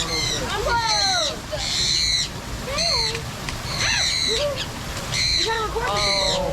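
Repeated squawking, warbling calls from a bird in a cruise port aviary at Costa Maya, loud and close in several bursts, with bubbling background chatter around them.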